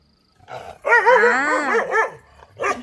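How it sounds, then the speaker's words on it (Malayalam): A tied-up dog barks and howls close by in a yard in Malappuram, Kerala, one drawn-out wavering bark-howl followed by a shorter yelp, loud against a quiet background. "ഇന്നലെ നല്ല കുരയായിരുന്നല്ലോ ഒന്ന് കുരയ്ക്കുന്നില്ലേ"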